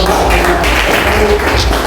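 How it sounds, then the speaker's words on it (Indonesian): Loud, dense applause fills a classroom as pupils clap together, a continuous close-up patter of many hands with no clear gaps. "Iya, tepuk tangan buat"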